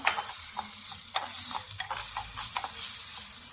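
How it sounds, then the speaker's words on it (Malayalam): Chopped capsicum is stirred with ginger and garlic as they sauté in a pan for a drumstick leaf soup. A soft sizzle is broken by repeated sharp spatula scrapes and taps at an irregular rhythm, close up, with no speech. "അതിലേക്ക് ക്യാപ്സിക്കം അരിഞ്ഞത് ഇട്ട് കൊടുക്കാം. കുറച്ച് ക്യാപ്സിക്കമാണ് അരിഞ്ഞെടുത്തത്. അത് അതിലേക്ക് ഇട്ട് കൊടുക്കാം. എന്നിട്ട് ഒന്നുകൂടി ഇളക്കി കൊടുക്കാം."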